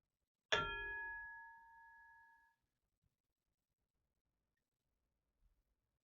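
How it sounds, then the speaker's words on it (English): A ring striking a lamp gives one bright bell-like ding that rings out and fades over about two seconds in an otherwise quiet room, followed by a couple of faint ticks. "My ring hit the lamp, but I think it's a nice bell."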